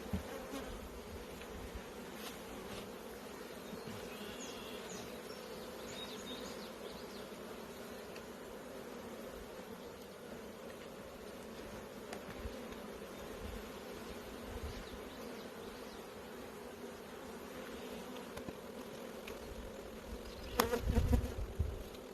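Honey bees buzz at an open, strong spring hive in Michigan, a dense steady drone of many wings close by, continuous throughout with a brief louder rustle near the end.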